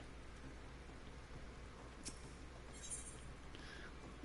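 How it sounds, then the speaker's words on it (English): Rain falls in the online game Final Fantasy XIV as a faint, steady, even hiss throughout, with a few soft higher ticks scattered across it. "It's raining."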